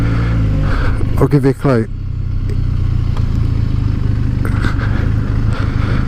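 A Benelli TRK502 motorcycle engine hums low and steady while the bike is ridden, with a voice briefly talking over it near the start, then the engine runs on alone with faint wind and road noise.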